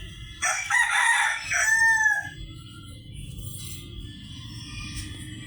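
A rooster crows loudly and close by in one long call, followed by quieter farmyard background noise from chickens and chicks.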